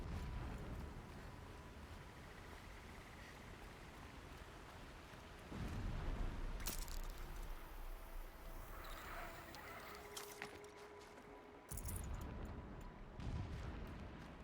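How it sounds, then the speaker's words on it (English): Low, rumbling booms roll in from far off in Horizon Zero Dawn, several dull blasts over a steady noisy background with no talking. "Explosions in the distance."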